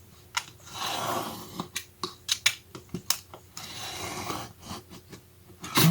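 Scissors trimming excess craft card for a snowflake card, a run of short crisp snips and rustling paper handled up close, with a brief sharper snip at the end and no talking.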